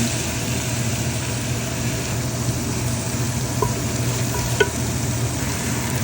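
Onion frying in a pan for lamb kabsa: a dense, even sizzle under a low steady hum, with a couple of faint utensil clicks near the end and no talk.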